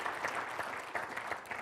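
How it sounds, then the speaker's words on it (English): Applause from a seated audience after a business presentation, a steady dense patter of many hands clapping throughout the short stretch with no voices over it. "Ron deserves a huge round of applause for this a wonderful presentation groups today"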